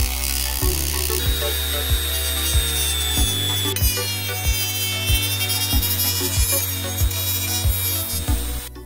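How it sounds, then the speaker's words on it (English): A Dremel rotary tool grinds through a plastic laptop charger brick case, its steady high whine shifting pitch as the cut proceeds, with rhythmic periodic knocks and scraping of the bit against the plastic, loud and close. "I have a Dremel tool,"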